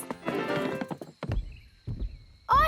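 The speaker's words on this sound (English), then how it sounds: "I can hear footsteps." Footsteps approach in a children's cartoon, a few heavy thumping steps at intervals that follow a burst of busy music, ending with a bright sound at the close.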